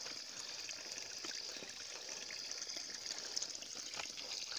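Water flowing steadily through a dense mountain forest, a constant hissing rush with no breaks, moderately quiet and heard alone.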